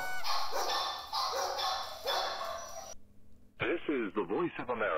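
A dog barks in a video game, a few sharp yips and barks alongside a radio-like voice and game audio, then a sudden switch to other speech.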